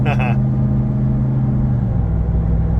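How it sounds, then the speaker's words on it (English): A truck engine runs with tow mode switched on, a steady, close, low rumble holding constant throughout with a brief higher sound at the start. "Listen to that motor."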